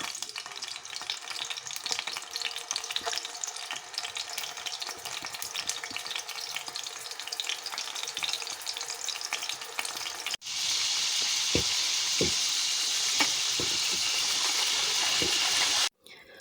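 Mutton keema kebabs fry in half a cup of hot oil in a pan, a dense close crackle and sizzle that suddenly swells into a louder, rushing hiss with scattered pops near the end.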